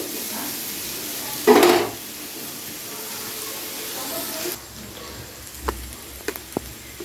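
Vegetables fry in a pan with salt and turmeric, making a soft, steady sizzle with a brief louder burst of scraping and stirring early on, followed by a few light clinks of utensil on pan.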